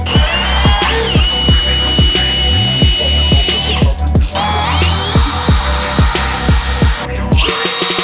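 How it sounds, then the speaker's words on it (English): Power drill boring into a steel workbench vise, a loud steady high whine with repeated rhythmic grinding pulses as the bit cuts metal, running continuously up close with brief dips in pitch. "All right, time to drill this thing."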